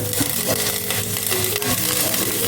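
Curry leaves fry in hot oil for a garlic rasam, giving a steady loud crackling sizzle close up, with occasional pops and stirring, no talk.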